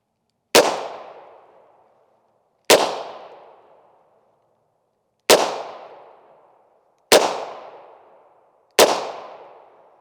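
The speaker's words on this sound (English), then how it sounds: "The good old 38 special revolver. We'll shoot dead center on this." Five loud, close .38 Special revolver shots firing full metal jacket rounds at a plywood-backed soft body armor target, evenly spaced with sharp cracks and short decaying tails, no talking.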